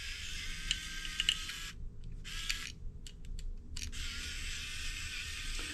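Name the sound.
unscrewing screws from an old security camera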